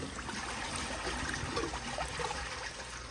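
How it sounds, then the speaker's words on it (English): An American Standard Townsend Vormax toilet flushes with a steady rush of water, a soft continuous swirling and trickling that is fairly quiet and even throughout, with no one talking. "Okay, here is a flush."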